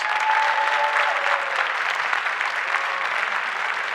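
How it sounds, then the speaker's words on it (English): Parents and audience at a school musical showcase applaud a student concert band, a thick continuous wash of clapping from a full room, steady throughout. "let's just give them another round of applause"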